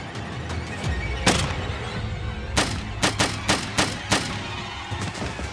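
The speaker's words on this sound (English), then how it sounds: "And empties that gun into Peter Martinez" Gunshots from a handgun in a dramatized reenactment ring out loud and sharp, with one isolated shot followed by a rapid string of about six more.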